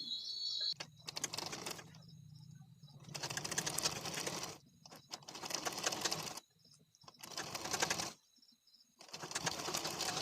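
Sewing machine stitching a puff sleeve on a blouse, running in several separate bursts of rapid, steady stitching with short quiet pauses between them.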